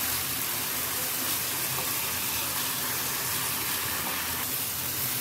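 Spice paste with sugar being stir-fried in a pan for a ridge gourd (jhinge) lunch dish, giving a steady, dense sizzle and hiss that holds evenly throughout with no pauses or talk.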